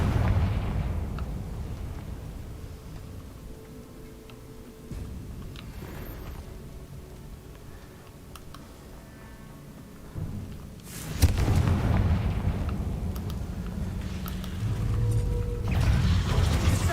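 A Confringo fire spell explodes in Hogwarts Legacy, a sharp blast that erupts midway and leaves a roaring, crackling rumble over steady low game ambience.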